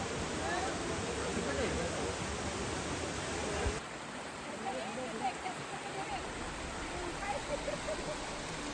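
Waterfall water rushing under a bridge on a forest trek in Tamhini Ghat, a steady broadband roar of flowing water filling the whole clip, slightly quieter in the second half.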